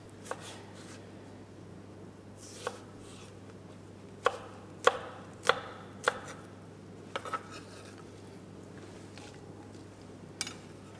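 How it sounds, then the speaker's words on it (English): A knife cuts an ingredient into even cubes for a Waldorf salad. Scattered sharp taps hit the cutting board, irregular and close, over a low steady hum in a quiet kitchen. "And we want to cut some even cubes."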